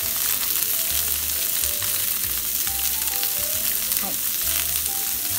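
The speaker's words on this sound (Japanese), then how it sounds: "フライパンの上でちょっとこうやって焼き付けてあげてください" Thick fried tofu and bean sprouts sear in a frying pan with a loud, steady sizzle and crackle that runs unbroken throughout, close up, with a brief spoken word near the start.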